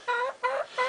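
Hen clucking up close, three short, evenly spaced nasal clucks in quick succession, clear and alone.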